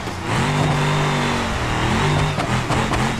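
A car engine in the BeamNG driving game revs hard toward the red line, a loud, continuous rising drone with harmonic whine that dips briefly mid-way before climbing again.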